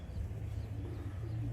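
Young pigeons in breeding cages inside a loft give low, soft coos over a steady background hum, faint and continuous, with no talking.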